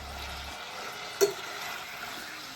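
Pheasant pieces frying in a pan give a steady, quiet sizzle throughout, with one sharp click or clatter near the middle as they are stirred around.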